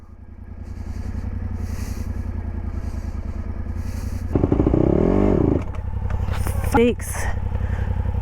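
A motorcycle engine idles steadily up close, then revs and clatters as it restarts and clunks roughly into second gear, with brief talk between riders.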